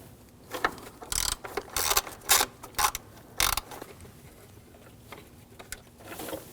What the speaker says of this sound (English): you're going to take these bolts out. Use a T30 socket.